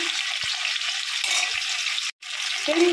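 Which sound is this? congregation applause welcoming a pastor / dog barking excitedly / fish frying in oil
fish frying in oil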